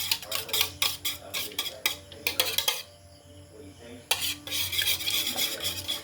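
Pancake batter whisked briskly in a bowl, with fast rhythmic clicking strokes close up that pause for about a second before resuming at the same quick pace.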